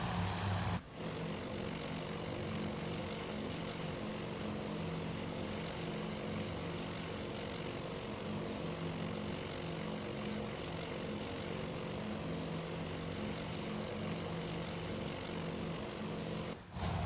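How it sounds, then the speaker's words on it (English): Torpedo bomber propellers in the Task Force Admiral game drone with a loud, steady engine roar that holds nearly unbroken throughout. "We got torpedo bombers on each side."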